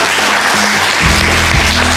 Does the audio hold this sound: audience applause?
yes